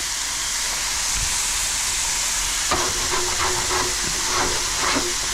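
Pork chops simmering in a pan over a campsite heat source give a loud, steady sizzling hiss, joined partway through by faint clinks and soft scraping, close by with no talk.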